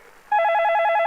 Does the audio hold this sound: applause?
no